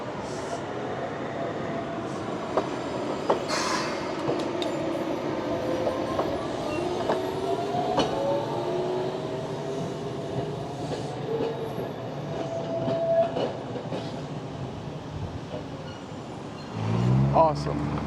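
A Toyohashi tram rumbles along street tracks at a tram stop with squealing wheels and clattering, a voice talking over it, and a sharp screech near the end.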